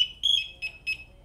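Firefighter PASS device alarm chirping in short, high-pitched electronic beeps, three or four bursts in quick succession, close and fairly loud, with faint low background rumble.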